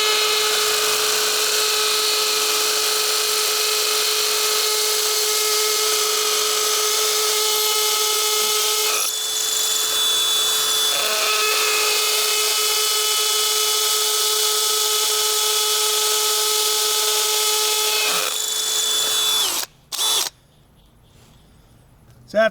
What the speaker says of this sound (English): My drill set on hammer. I got it set on speed number 2, and here we go.